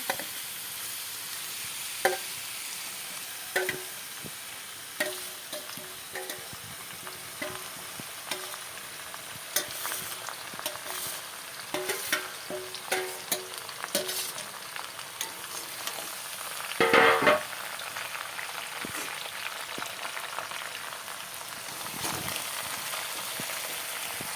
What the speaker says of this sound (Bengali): এখন মাংস ঢেলে দেওয়া হলো